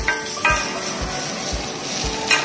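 A chicken roulade goes into a hot pan and sizzles steadily, a continuous close frying hiss with a few soft knocks and clatters, no voices.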